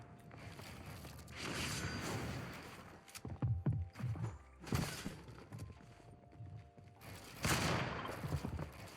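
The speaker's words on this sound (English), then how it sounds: "There is a player actually here shooting me, and he's already got a shot off on me" Bursts of gunfire from another player in the video game Fortnite, several loud volleys of rapid shots spaced apart over a few seconds, with clattering mechanical game sounds between them.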